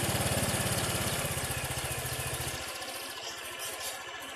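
A Honda Vario 125 scooter engine idles steadily with a fast, even putter, close and fairly loud, its rhythm slowing slightly toward the end.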